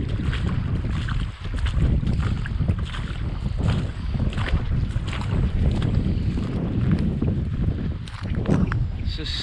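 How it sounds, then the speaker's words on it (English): Strong wind gusting hard across an open spot by the water while fishing for pickerel in the Pine Barrens, a steady roaring buffet of microphone wind noise with someone talking faintly under it. "This is so windy."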